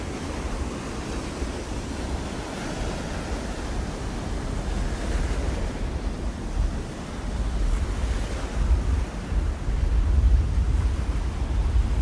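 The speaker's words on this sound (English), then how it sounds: "I hope you all are still able to hear the sea" Ocean waves break steadily on the shore at Cattlewash, a continuous broad wash of surf with gusty wind buffeting the microphone, swelling louder near the end.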